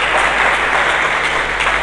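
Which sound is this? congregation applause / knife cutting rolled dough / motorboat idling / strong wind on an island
congregation applause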